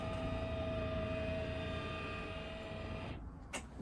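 An electric drop-down bed rises in a 2021 Frankia Platin I8400 QD luxury motorhome with a steady motorised whir and hum for about three seconds, ending in a small clunk as it stops.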